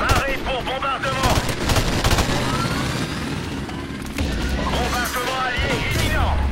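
Allied bombardment rumbles and bursts under rapid gunfire in a military video game, loud and continuous, with shouted voices and chatter mixed throughout the battle.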